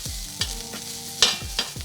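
Day-old cold rice stirred through hot oil in a pan for Thai fried rice, with several sharp scraping strokes of a utensil against the pan over a steady low sizzle, no voices.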